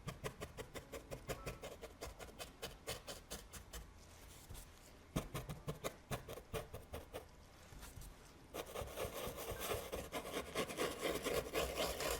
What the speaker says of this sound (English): I'm just touching it with the brush.